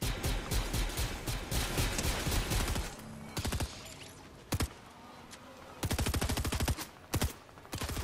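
Gunfire in a Fortnite Star Wars match, loud rapid automatic bursts that rattle continuously at first, then break into short separate volleys and single shots with pauses between.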